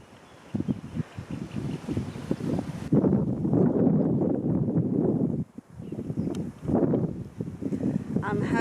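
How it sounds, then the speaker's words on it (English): Wind gusts buffet the microphone at a lake in the Warsaw countryside, loud rumbling bursts rising and falling irregularly, with a voice speaking underneath. "Here at the lake, it's windy."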